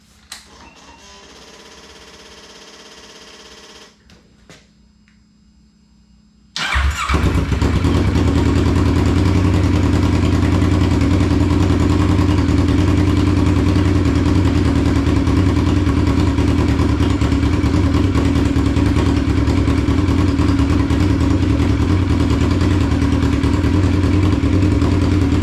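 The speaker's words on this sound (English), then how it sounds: "So we're going to crank her back up." A Kawasaki Ninja 650R motorcycle is cranked after an oil change and catches after a few seconds of near quiet, then settles into a loud, steady, close idle that runs to the end.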